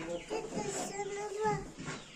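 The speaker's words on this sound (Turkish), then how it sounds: "Oralarda tavuklar var dedi." Chickens cluck at close range in a farmyard setting, giving a short run of soft, overlapping calls at moderate loudness.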